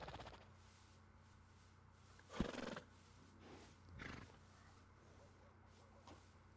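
A horse in Red Dead Redemption II gives a loud whinny, then a softer second snort-like call, over a quiet low background hum.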